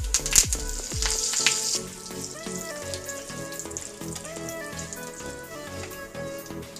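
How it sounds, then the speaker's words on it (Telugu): Mustard seeds, chana dal, cumin and curry leaves frying in oil for a raw mango and cabbage chutney tempering, a bright crackling sizzle that flares loudly at first then settles into a steady hiss with faint background music, no talking. "వన్ టేబుల్ స్పూన్ ఆవాలు వన్ టేబుల్ స్పూన్ పచ్చిశనగపప్పు వన్ టేబుల్ స్పూన్ జీలకర్ర రెండు రెమ్మల కరివేపాకు వేసుకుని ఫ్రై చేసుకోవాలి"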